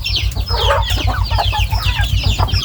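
Thai native chickens cluck continuously at morning feeding time, a busy overlapping chorus of clucks and chirps from several birds close by, over a steady low hum.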